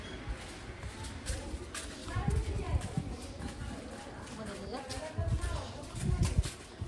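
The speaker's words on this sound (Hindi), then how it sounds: "एक हमारे साथ में गधा जो कि घास चरने के लिए जा रहा है।" A donkey walks along a path in Rishikesh on its way to graze, its hooves clip-clopping in a loose, uneven rhythm among outdoor ambience and nearby voices.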